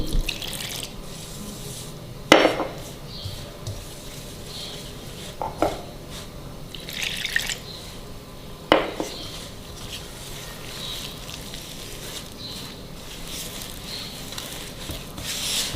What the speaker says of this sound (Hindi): सिंपल पानी से आटे को गूंदेंगे।